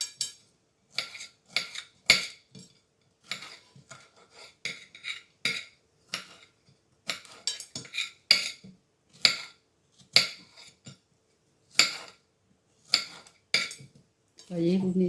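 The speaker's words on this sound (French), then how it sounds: "on reprend des fraises qu'on vient couper en petits cubes" A knife cuts strawberries into small cubes on a board for a strawberry fraisier cake, making a quiet, irregular run of sharp taps and clicks with short pauses between strokes.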